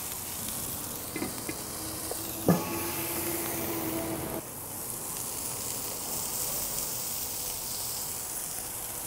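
Cheeseburgers steaming under a covering bowl on a hot griddle after water is sprayed in, a steady soft sizzling hiss throughout, with a brief clink and a short whistling steam tone near the start.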